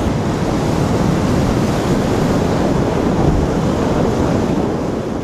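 Rough Adriatic sea churned by a strong north-east wind roars in a steady, loud wash of surf and gusting wind buffeting the microphone, with no voices.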